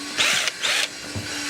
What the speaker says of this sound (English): Let's try and do some drilling by ourselves.